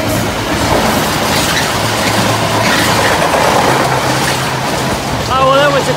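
A train rolls past close by, a loud continuous rumble and rattle of rail cars filling the whole stretch, with a voice breaking in briefly near the end.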